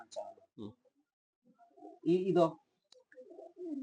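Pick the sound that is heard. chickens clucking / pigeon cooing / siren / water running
pigeon cooing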